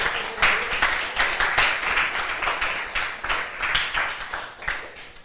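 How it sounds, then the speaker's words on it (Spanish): A church congregation claps hands in praise during a Spanish-language service, a steady run of quick, rhythmic claps repeating throughout at moderate loudness. "Bata palmas para el Señor esta mañana."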